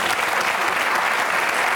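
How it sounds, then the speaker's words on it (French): A television studio audience breaks into applause, a loud continuous roar of many hands clapping that fills the whole short clip. "Applaudissements."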